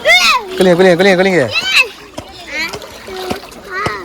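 Children shout and squeal happily while splashing in river water, lively and close, with scattered splashes between their voices.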